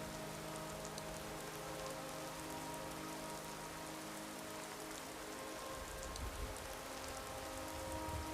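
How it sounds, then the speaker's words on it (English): Steady rain in a video game patters densely on a surface, a constant wash of droplets with a low hum underneath, no voices. "It's raining."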